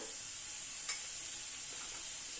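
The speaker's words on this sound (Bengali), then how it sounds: "মশলাটাকে একটু মিনিট খানেক নাড়াচাড়া করে নিলাম।" Masala spices being stirred and fried in a pan for a vegetarian paneer dish, a faint, continuous sizzle with one soft scrape of a spoon, and no talk.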